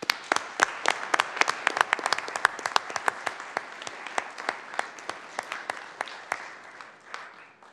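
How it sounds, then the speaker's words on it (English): Small group at a city council meeting claps, sparse distinct hand claps scattered at a moderate level that thin out toward the end. "if we can give them a round of applause"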